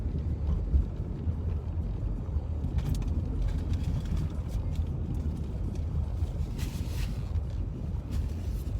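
Car interior while driving, with a steady low road rumble and faint wind noise throughout, fairly quiet with no talk.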